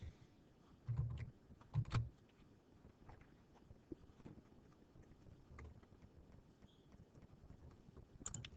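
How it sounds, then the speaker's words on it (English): Quiet keypresses on a calculator being punched during a geometry lesson on circle sector area, a few soft taps clustered early then scattered clicks, close and faint with no talking. "I'm going to type all that into my calculator."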